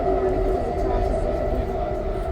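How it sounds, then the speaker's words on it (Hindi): Inside the Namo Bharat rapid rail train at 110 km/h, a steady rumbling hum and rushing noise fill the cabin without pause, with voices talking over it. "अब ये फिर 110 की स्पीड पे चल रही है ट्रेन"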